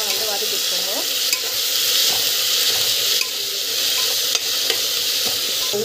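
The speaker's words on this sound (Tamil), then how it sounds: "நல்லா வந்து வதக்கிட்டுருக்கோங்க." Broad beans sautéing in an oil-slicked pan give off a constant close sizzle, with light spatula scrapes and a few sharp taps against the metal. No voices.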